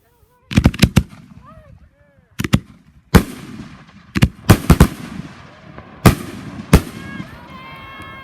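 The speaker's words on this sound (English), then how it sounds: "I make a bunch of these and put them into a mortar rack, which allows you to do something like this" A homemade firework mortar rack fires off a rapid series of sharp, loud bangs in clusters, with crackling bursts and fading tails between shots, heard outdoors from close range.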